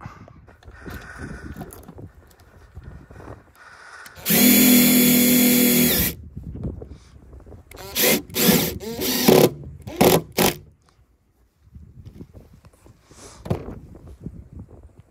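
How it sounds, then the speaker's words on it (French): A power drill drives screws through garden shed panels, one long steady whine followed by several shorter bursts, loud and close against quiet outdoor background with rain-like hiss. "du coup je vais les visser à travers"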